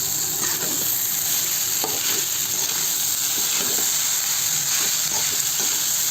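Leftover idli upma is stirred in a hot pan under a constant loud sizzle and hiss, with a utensil scraping in repeated strokes close by.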